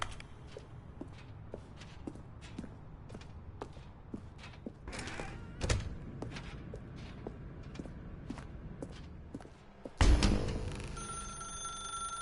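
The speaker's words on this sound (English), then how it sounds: "Now pick up the phone, said the bucket." A telephone rings in The Stanley Parable, a loud burst of ringing near the end that follows a long stretch of steady, evenly spaced footsteps across a quiet room.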